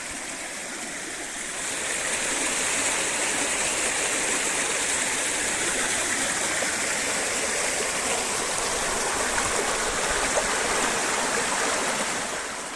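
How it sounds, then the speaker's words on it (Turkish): Steady, rushing flow of a stream running toward the Filyos river near Karabük, a dense continuous wash of water that fills the whole stretch, loud and close, with no voices. "Su böyle Karabük'e e, Filo çayına kadar akıyor."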